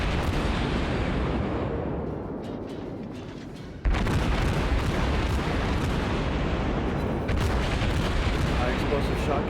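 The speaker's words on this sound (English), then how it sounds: "Explosive shot continues to penetrate his armor" Heavy naval gunfire and explosive shells striking a warship in World of Warships, a dense roar of booms that swells sharply about four seconds in and stays loud under continuous rumble, with a voice speaking over it.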